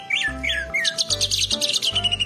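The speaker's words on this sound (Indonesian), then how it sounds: "lucu sekali burungnya. Bagus sekali bunyinya." A toy bird gives repeated bright chirps and tweets in quick bursts, close and clear, over a faint electronic hum with low pulsing tones.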